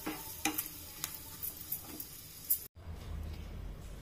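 Cashews and curry leaves frying in hot oil for a tempering, a soft steady sizzle with faint stirring clicks, briefly cut off then resuming as a low crackle.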